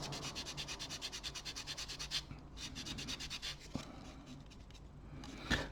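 Sanding sponge rubbing over a plastic model seam filled with plastic putty, rapid rhythmic back-and-forth scrubbing strokes then slower scratches and a couple of taps, quiet and close with no speech.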